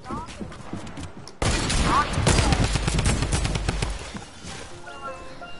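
Hunting rifle fire in a video game: a sudden loud burst of rapid, crackling gunshots that runs for a few seconds before fading, with players talking underneath.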